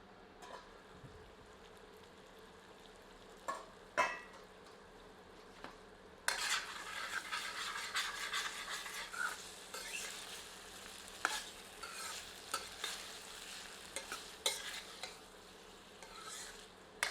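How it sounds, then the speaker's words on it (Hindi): An eight ball squash curry is stirred with a ladle in a pot over a low flame, with scraping and clinking strokes that grow busier after a quiet start, over a soft sizzle. "पर बीच बीच में करछी चलाते रहते हैं।"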